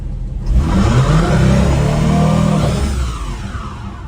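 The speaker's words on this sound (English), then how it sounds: "let's go do a burnout" A car engine revs hard during a one-wheel burnout and holds at high pitch, loud and close, then eases off as the roar tapers toward the end.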